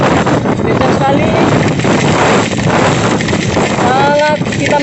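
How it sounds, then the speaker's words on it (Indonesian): Loud, relentless gusts batter the mic on a motorcycle crossing the JMP bridge in Ambon in wind and rain, a constant heavy rumble with someone speaking throughout. "Kencang sekali saudara-saudara. Anginnya kencang."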